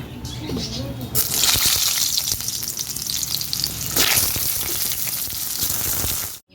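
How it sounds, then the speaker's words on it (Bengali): Pointed gourd (potol) hits hot oil for a chicken curry, bursting into a loud, close, crackling sizzle that holds strongly for several seconds with an occasional sharper spatter. "এবার ওই তেলেই পটলটা ভেজে নেব"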